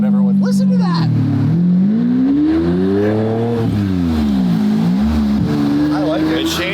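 A car engine revs and rises and falls in pitch through several throttle blips, loud and close, with someone talking over it.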